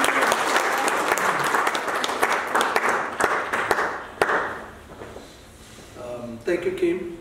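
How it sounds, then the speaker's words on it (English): Applause from an audience at a TAI TV event in South Africa in 2017, a loud burst of many hands clapping that thins into scattered claps and fades, before a voice begins speaking. "please clap"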